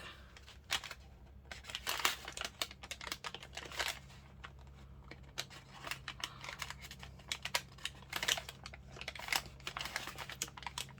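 Paper file folder legs being carefully opened, giving soft crinkling, creasing and tapping of paper close up, quiet and irregular throughout with no talk.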